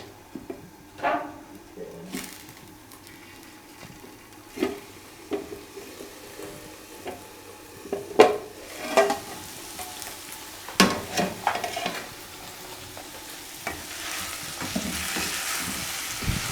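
Meat with tomatoes and onions fries in a pan, a soft, low background sizzle broken by repeated scrapes and clacks of stirring.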